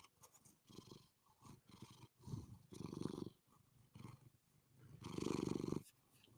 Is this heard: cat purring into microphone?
yes